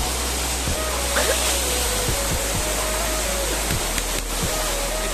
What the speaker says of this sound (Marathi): जबरदस्त असा हा वॉटरफॉल